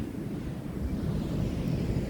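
Steady low roar of high surf and wind at the Kapurpurawan rock formation coast in Burgos, Ilocos Norte, continuous and fairly loud, with no distinct breaks between waves and no voices.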